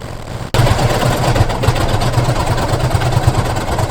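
A sewing machine stitches the inner thigh lining of pants made from a thrifted quilt, starting abruptly and then running loud and close as a steady, rapid motor whir with a dense chatter of stitching, and no voices.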